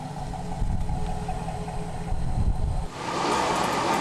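A two-wheel-drive GM pickup truck stuck and spinning its wheels, the engine holding a steady low rumble before a rising rush of tire spin and revving takes over in the last second, fairly close and continuous, no voices.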